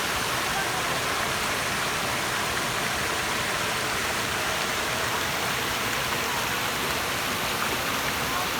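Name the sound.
Palaypay Falls waterfall rushing water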